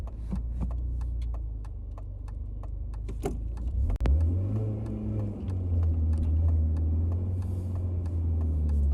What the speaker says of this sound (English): Let me roll these windows up because you probably can't hear me too well.